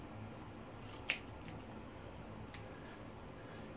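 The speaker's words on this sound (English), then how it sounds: "I'm gonna trim all of that." Scissors snipping straightened natural hair, one sharp quiet cut followed by a fainter second snip against a soft, hushed room background.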